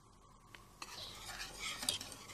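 A spoon scrapes and clinks while stirring milk, sugar and cream in a pot, soft irregular strokes close by, quiet and alone.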